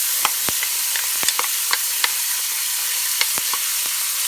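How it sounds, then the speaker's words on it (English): Onions fry in rendered fat for pea soup, giving a soft steady sizzle dotted with scattered crisp pops and crackles throughout. "I'll go ahead in with the onions first"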